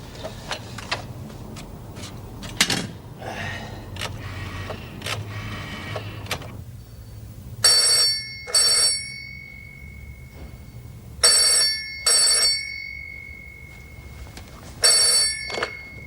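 An old-style telephone rings in a TV drama scene, three double bursts of bright bell ringing separated by pauses, following some earlier clatter of handling and movement.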